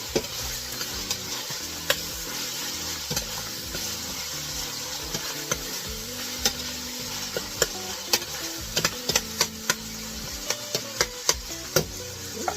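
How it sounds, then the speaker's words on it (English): One large chopped Spanish onion cooks in a pot, a steady close sizzle with frequent sharp spoon taps and scrapes that grow more regular toward the end, with no voices. "Let's cook the onions for a couple of minutes."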